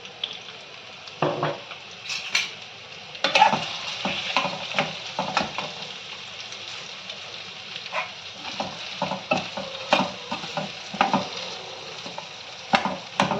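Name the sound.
sautéing potatoes in oil for sabudana khichdi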